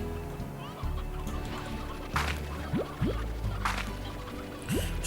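Short clucks and chirps from a chicken in the video game Slime Rancher, scattered over a bed of soft game ambience and gentle dripping, fairly quiet and spaced a second or so apart.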